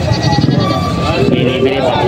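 Goats bleat at a livestock market in Padre Garcia, Batangas, with several close, loud calls overlapping amid busy crowd chatter.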